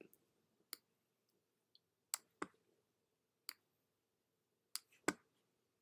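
Mouse or pen-tablet clicks while drawing lines with a pen tool in digital line art software, about nine sharp, isolated clicks spaced irregularly over a quiet background with no talking.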